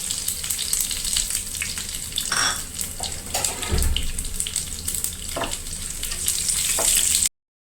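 Mustard seeds, curry leaves and green chilies fry in hot oil with a loud, steady sizzle. Crackles and stirring scrapes sound close by throughout, and nobody speaks.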